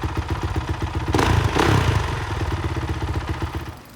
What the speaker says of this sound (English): we still want to run the engine for just a little bit